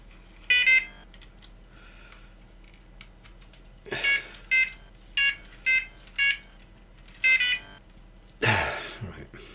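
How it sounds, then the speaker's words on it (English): An NGT digital fishing bite alarm gives a series of short, sharp electronic beeps, some single and some in quick pairs, close and clear, ending with a burst of handling noise. "Okay, so the alarm itself's working."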